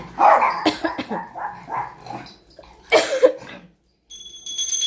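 A pet dog barks close by in a home during a puja: a quick run of sharp yappy barks, then a pause and a few more, with faint chiming in the background.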